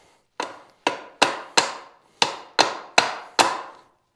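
Eight sharp hammer blows strike metal on a bolt and axle, landing in an uneven rhythm of single and paired hits, each ringing briefly before fading, close and loud with no talking.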